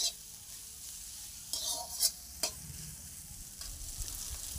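Food frying with dried chili powder in a pan, a soft continuous sizzle with a few louder scraping stirs of a spatula against the pan.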